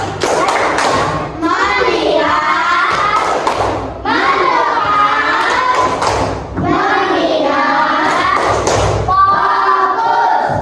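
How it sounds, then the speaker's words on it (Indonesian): Classroom children perform the 'tepuk fokus' clapping chant, loud rhythmic group claps and thumps in repeating bursts mixed with children's chanting voices, pausing briefly between rounds. "kita tepuk fokus dulu"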